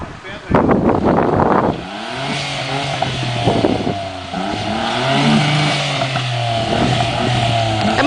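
A stuck jeep's engine revs repeatedly with the wheels spinning in dirt, rising and falling in loud bursts close by, while people shout and talk over it.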